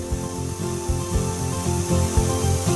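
Aerosol insecticide cans hiss steadily in an aircraft cabin, a continuous loud spray with an underlying rhythmic engine-like hum and periodic low pulses.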